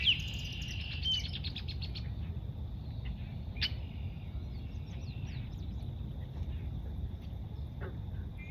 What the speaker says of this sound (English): That chirping sound is the osprey.